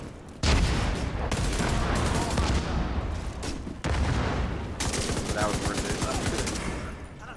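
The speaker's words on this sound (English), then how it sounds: "It's just a turret above us." Rapid turret gunfire in The Division 2 hammers loud and nearly continuous in long automatic bursts, with a brief break before firing resumes; no one speaks over it.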